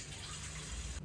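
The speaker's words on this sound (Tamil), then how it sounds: "ஒரு சொம்பு தண்ணி ஊற்றுறேன்" Water pours from a small metal pot into a wide vessel, a close, steady gushing splash that continues evenly before cutting off at the end.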